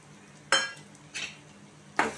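Semolina being stirred into browned onions in a pan while making upma, three separate scraping stir strokes about a second apart over a quiet background, close and alone.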